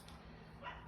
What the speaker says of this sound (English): Pardon my dog. She's in her kennel.